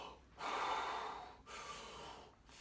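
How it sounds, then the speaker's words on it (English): A deep breath drawn in close to the mic while adjusting an Exovest, two long airy inhalations separated by a brief pause, with no talking. "I should be able to breathe very deeply."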